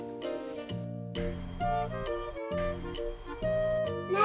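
A doorbell rings inside a home with a run of bright, clear chime notes that repeat loudly over a few seconds, and no one talks.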